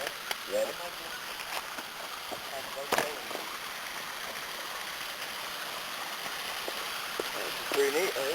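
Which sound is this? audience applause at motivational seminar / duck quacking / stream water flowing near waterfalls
stream water flowing near waterfalls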